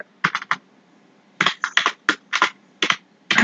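Keys tapped on a computer keyboard while HTML is typed into a code editor, in short bursts of several quick clicks separated by brief pauses, close and clear with no talking.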